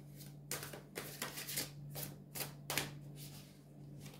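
Tarot cards from the Goliath deck riffle and slap as they are shuffled and drawn by hand, a series of crisp, papery bursts in quick irregular succession over a low steady hum, close and fairly quiet.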